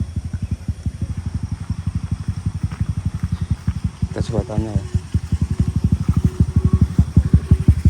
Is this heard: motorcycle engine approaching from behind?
yes